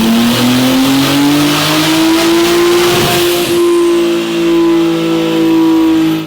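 A Toyota A90 Supra with an E50 tune and an FX350 high pressure fuel pump is run on a dyno, its engine roaring loud and close in one long rising pull that steadily climbs in pitch before cutting off sharply.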